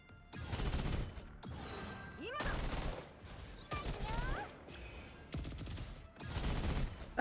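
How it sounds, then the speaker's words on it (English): Gunfire in the video game Girls Frontline 2 comes in several loud bursts of rapid shots, each lasting about a second, with brief gaps and whooshing effects between them. "That is a lot of gunshots every single turn."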